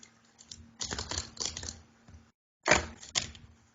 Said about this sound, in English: Let me just shuffle this once.